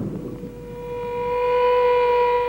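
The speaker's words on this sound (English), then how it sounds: "The air raid siren screams." An air raid siren in wartime Israel during the Yom Kippur War wails loudly and steadily, its tone holding then swelling in volume, heard alone.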